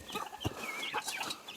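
Several chickens cluck softly nearby, short irregular calls overlapping at a quiet level.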